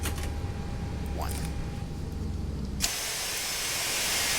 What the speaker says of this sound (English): shut down engine number 2 and engine number